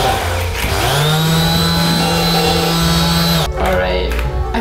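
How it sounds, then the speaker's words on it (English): A loud electric sander whines steadily for about three and a half seconds at a dinner party, then cuts out, with chatter and table noise around it. "What is that? It's an electric sander."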